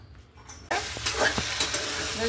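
Okra fries in a spoon or two of oil in a pan, a crisp sizzle that bursts in suddenly after near quiet, with spoon stirring scrapes and pops over a steady hiss.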